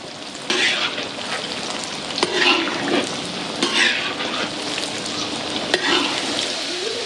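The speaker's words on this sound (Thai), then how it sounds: "พอเต้าหู้เซตตัวแล้วก็คนพลิกไปพลิกมาได้เลยครับ ทอดจนกว่าด้าน นอกจะเหลืองกรอบ" Tofu deep-fries in hot oil, crackling loudly and continuously while a utensil stirs and turns the pieces with occasional metallic scrapes against the pan.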